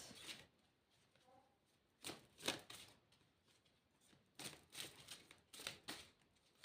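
Tarot cards being handled, heard as several separate bursts of crisp card shuffling and riffling, close and fairly quiet, with near silence between them.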